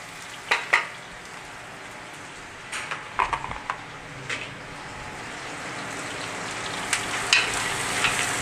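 About 125 grams of butter melting in a pan with roughly five shallots sweating in it for an Alsatian Christmas dish, giving a soft, steady sizzle with a few sharp crackles and utensil clicks, close and fairly quiet, with no talking.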